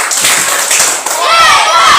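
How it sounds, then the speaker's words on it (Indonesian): A classroom audience applauds in a dense wash of clapping that fades, then a shrill whistling tone rises over it. "Tepuk tangan terus juga."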